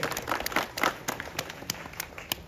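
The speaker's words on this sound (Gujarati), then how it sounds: "જોરદાર તાળીઓથી એમને વધાવીએ" A village crowd at a political welcome event in Somasar claps for a local candidate, with scattered, uneven hand claps close by and no steady roar.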